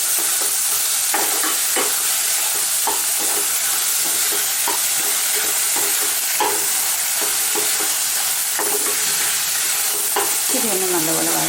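Pre-cooked onions sautéing in a pan, giving a constant loud sizzle and frying hiss throughout, with repeated close scraping and stirring strokes from a utensil, and no talk.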